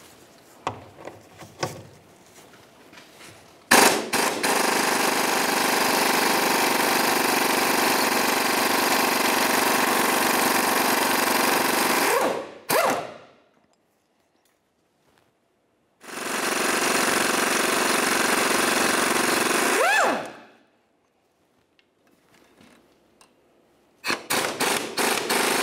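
Power tool, likely an impact wrench, spinning out 17 mm bolts holding the rear control arm of a 2009-2010 Pontiac Vibe: two long loud buzzing runs of about eight and four seconds, with quiet gaps between.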